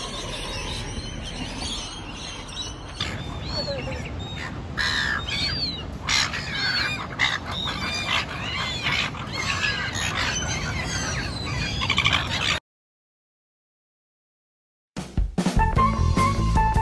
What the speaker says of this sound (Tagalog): see a lot of cockatoo here